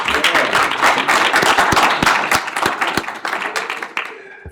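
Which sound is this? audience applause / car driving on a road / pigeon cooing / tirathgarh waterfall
audience applause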